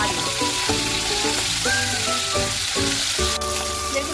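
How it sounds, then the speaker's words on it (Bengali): Pomfret fish frying in hot oil, a loud, steady sizzle and crackle close by that runs unbroken throughout, with no voices. "গরম হয়ে গেছে এবার আমি তেলে এক একে মাছ দিচ্ছি তেলে দিয়ে দিলাম এবার লাল লাল করে ভেজে নেবো"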